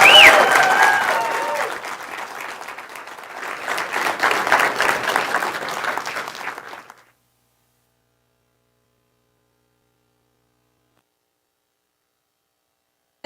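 Applause from a TEDx audience at the end of a talk, a dense roomful of clapping that swells, dips and rises again before cutting off into silence.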